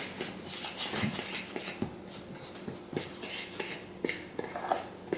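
A utensil mixes vegan, oil-free cornbread batter in a small bowl, with irregular scraping and light clinks against the sides, quiet and close.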